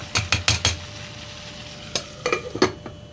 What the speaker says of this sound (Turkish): şimdi bir 5 dakika patateslerimizi arada karıştırarak kavuralım